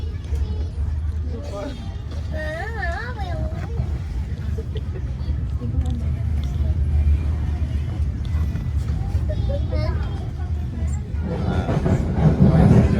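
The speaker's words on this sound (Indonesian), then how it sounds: "kereta api Motis kembali berangkat dari stasiun Tegal setelah disusul kereta api Berantas Tambahan" A Motis freight-passenger train pulls away from Tegal station, with a low rumbling roll of wheels and carriages that swells toward the end, plus tonal squeals and murmuring voices in the background.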